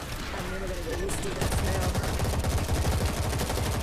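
Zombies are gunned down in World War Z with sustained automatic fire, a steady rattling stream of shots growing stronger after the first second and persisting throughout, with a voice talking faintly beneath.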